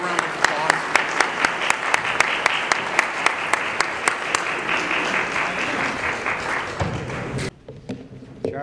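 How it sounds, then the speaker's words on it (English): An audience at a transportation infrastructure forum gives a round of applause, with broad clapping and sharp regular taps standing out near the microphone, then the clapping cuts off abruptly near the end. "A big round of applause."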